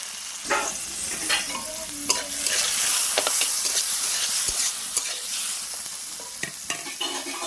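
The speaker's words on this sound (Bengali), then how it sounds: "করলাটা আমি নুন হলুদ দিয়ে দেবো, দিয়ে ভেজে নেবো।" Bitter gourd with salt and turmeric fries in oil in a kadai, a continuous close sizzle broken by repeated scraping stirs and small pops.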